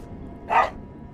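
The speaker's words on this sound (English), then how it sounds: "What's with the dog? What is it, partner?" Dog barking in Fallout New Vegas: a single short, clear bark, moderately close, over a quiet ambient background.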